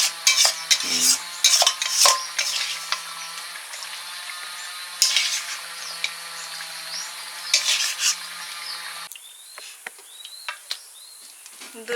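Catla fish curry cooked with yogurt is scraped and poured out of a pan, with repeated close metallic clinks and scrapes of a spatula against the pan. A soft sizzle runs underneath, and the sound turns quieter and sparser near the end.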